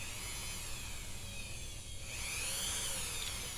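Dremel rotary tool sanding with new sandpaper, a steady high-pitched buzzing whine that runs throughout at moderate volume, its pitch shifting slightly partway through.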